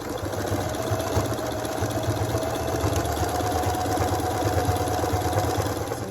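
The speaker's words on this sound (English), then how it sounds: "Then you can add your single stitch all the way around." A sewing machine runs a single straight stitch around a homemade mop head pad made from old towels and shrunken sweaters, its motor whirring steadily and close with a fast rhythmic chatter, with no voices.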